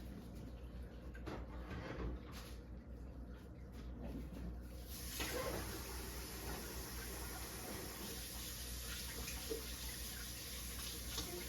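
Water runs from a kitchen tap during hand washing with soap, a soft steady stream with clinks and shuffles, growing a little fuller halfway through.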